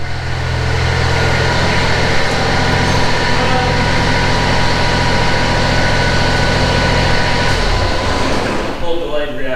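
Kubota mower engine running steadily after a front wheel repair, a loud continuous idle with a low rumble that holds for most of the stretch before cutting off near the end.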